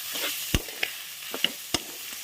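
Boiled mutton boti (tripe) fries in a pan with a steady close sizzle, broken by several sharp clicks and taps as a spatula mixes it.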